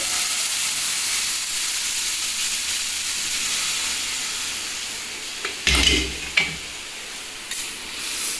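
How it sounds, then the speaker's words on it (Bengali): Chana dal is poured into a hot pan, setting off a steady loud hiss of steam and sizzle that fades lower, followed by a few sharp bursts of sizzling near the end; no talking. "ছোলার ডালটা ঢেলে নিচ্ছি"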